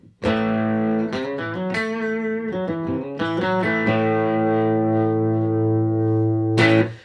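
Electric guitar with a warm, blended modern country tone, tone control rolled back, plays sustained chords and short strums, ringing clearly with a touch of effects, no voices.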